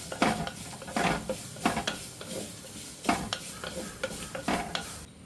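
Rasam ingredients sauté in a pan as a spoon stirs and scrapes in regular strokes over a soft sizzle, close and moderately quiet, with nobody speaking.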